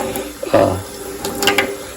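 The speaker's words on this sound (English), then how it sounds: "I'm going to give this a good rinse again." Water rinsing over a silicone-treated waterproof boot, a short splashing burst in the middle followed by a fainter trickle, close and alone without talk.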